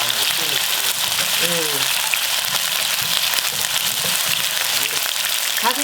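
Chicken drumettes fry in a shallow layer of oil in a pan, a steady dense sizzle running throughout with faint knocks of stirring and a few brief voiced sounds in the background.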